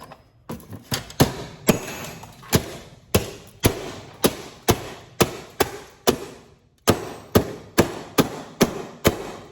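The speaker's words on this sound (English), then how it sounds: "Sometimes they don't always come out, so you bash them with a hammer if you like." Repeated sharp hammer blows striking metal scrap from golf cart chargers, about two per second in a steady rhythm with short pauses, loud and close.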